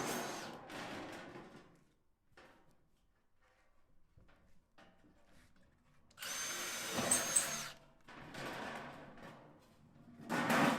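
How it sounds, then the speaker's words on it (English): Power drill pre-drilling holes through a box gutter for downpipe pops, in several separate whirring bursts with quiet pauses between them, close and moderately loud. "I'll just pre-drill a hole through the center of where I want those"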